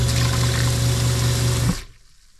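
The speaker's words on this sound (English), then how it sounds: "we have running water" Water runs steadily into a sink from a dry cabin water system, a close, continuous rushing with a pump-like hum beneath it, then it cuts off abruptly and leaves near silence.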